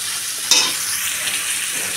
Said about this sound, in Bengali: আমার এই যে ফুলকপিটা আমার লাল লাল করে ভাজা হয়ে গেছে।